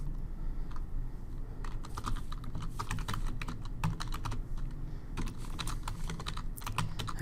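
Rapid keystrokes on a computer keyboard as a spreadsheet sheet name is typed, a close, crisp clicking run that pauses briefly and resumes over faint background hum.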